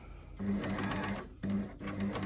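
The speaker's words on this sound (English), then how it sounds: "a couple of stitches on, needles down into the fabric, raise the presser foot" A sewing machine runs in two bursts of steady stitching through fabric while a bottle gift bag is made, the motor hum and needle rhythm loud and close, with a short quiet gap between runs.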